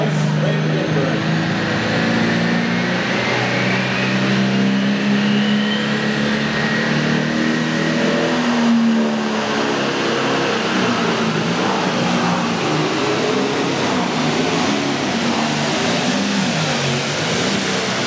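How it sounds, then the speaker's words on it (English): Pro Stock pulling tractor at an indoor pull in Gordyville, Illinois, its engine roaring loud and steady throughout the run, with rising and falling tones and an announcer talking over it. "Tractor sounding good, just got the little front end up and down a couple too many times"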